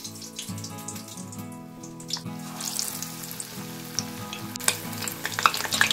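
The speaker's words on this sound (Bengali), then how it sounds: "একটা একটা করে ফুল ব্যাটারের মধ্যে খুব ভালো করে মাখিয়ে নিয়ে আমি দিয়ে দেব কড়াইতে" Batter-coated pumpkin flowers drop into hot oil in a wok, crackling and sizzling over a medium-low flame, with bursts of spattering that grow busier toward the end over a steady tonal background.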